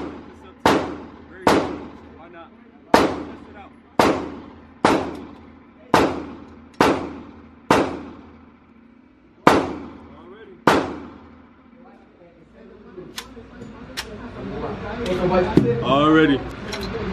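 Glock pistol firing from a 31-round extended magazine at a gun range: about ten sharp, loud shots in a steady, fairly even rhythm, then a pause with handling noise and a person talking.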